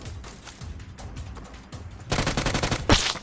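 Rapid bursts of PUBG Mobile gunfire crackle in the distance, then swell into loud, dense automatic fire with a sharp blast near the end.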